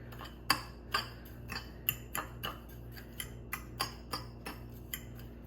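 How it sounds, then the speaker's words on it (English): Fork mixing paprika into a seasoning mixture in a bowl, a rhythmic series of about a dozen sharp metal-on-dish clicks and taps, close, over a faint background hum. "I'm just going to take a fork and just kind of mix it in here"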